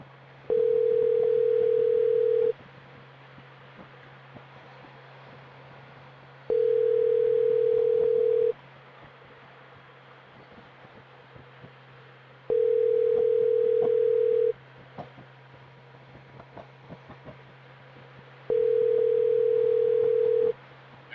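A phone ringback tone plays while a call waits for an answer: four steady two-second tones separated by about four seconds of quiet, over a low constant hum, with no voices.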